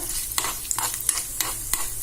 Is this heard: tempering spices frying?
yes